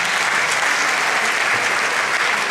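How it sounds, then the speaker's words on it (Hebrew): Audience applause at a performance by a women's troupe from a moshav: dense, steady clapping that fills the whole stretch at an even, fairly loud level, with no pauses or voices. "כן, מחיאות כפיים."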